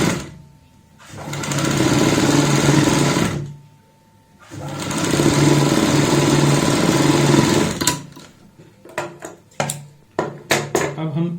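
A sewing machine stitches along the folded pointed edge of a kurta collar in two long steady runs of close, loud whirring, each about three seconds, then quick short bursts of stitching near the end.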